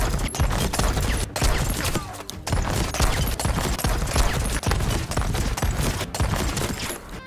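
Cannons fire in rapid succession in the video game Sea of Thieves, loud close booms in a dense, uneven barrage with brief gaps between volleys.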